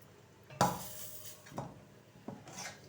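Utensils clink against pots and bowls while serving tomato charu curry, a few distinct strikes, scooping and scraping sounds spaced about a second apart in a quiet kitchen.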